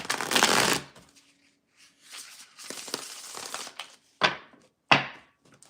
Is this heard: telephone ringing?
no